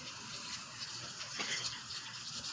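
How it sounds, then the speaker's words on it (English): Steady rain falling outside a house in Florida on a stormy day, a continuous broadband hiss with a soft wash of drops, fairly even and moderately loud, with no voices. "Now the rain is coming down."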